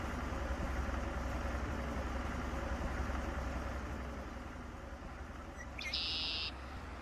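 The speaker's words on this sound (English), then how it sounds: "I actually made some adjustments in the game to try to make the tractor a little louder" Tractor engine in a farming video game, a steady low drone with an even rumble throughout, dipping slightly in level partway through, with a short beep-like tone near the end.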